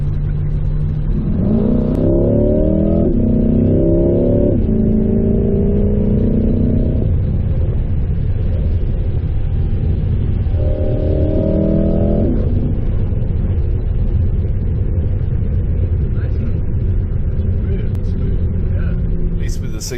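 Corvette C6 front-engine sports car accelerating hard with traction control on: a loud, close engine note climbs through several quick gear changes from about two to seven seconds, then surges again briefly, over a constant low road rumble.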